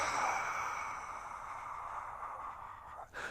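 A long, steady exhale blown out through the mouth during a deep core exercise, close and breathy, fading slightly before a short catch of breath at the end.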